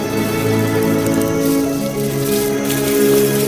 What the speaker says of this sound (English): The first drops of rain trigger a remarkable event.